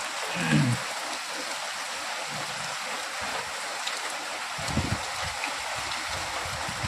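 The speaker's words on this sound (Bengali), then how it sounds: "দেখতে পাচ্ছেন বন্ধুরা, পুরো বৃষ্টি হচ্ছে সকাল থেকে।" Steady rain falls over a village setting, a soft continuous wash of drops with a few brief louder splashes, no talking heard.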